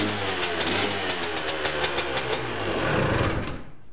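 A CR250 motorcycle engine, recently freed from being stuck, sputters to life and runs loudly at a rough, rapid idle before cutting off abruptly near the end.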